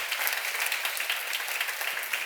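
A church congregation at a seminar applauds in a soft, even, continuous patter of many hands, fairly faint and distant, with no talking over it.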